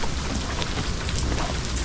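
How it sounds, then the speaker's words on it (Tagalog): Heavy rain pours down in a dense, steady roar, drumming hard on a nearby surface with no voices. "sobrang lakas ng ulan"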